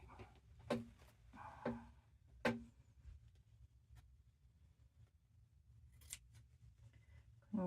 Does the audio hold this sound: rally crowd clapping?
no